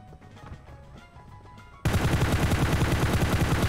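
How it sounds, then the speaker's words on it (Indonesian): Rapid automatic gunfire from a shooting video game's training range, where only headshots on the opponent count, bursting in loud and dense halfway through after a quieter stretch of background game sounds. "Cuma boleh nembak kepala temennya."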